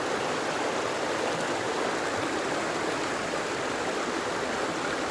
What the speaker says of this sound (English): just listen to the water rustle over the rocks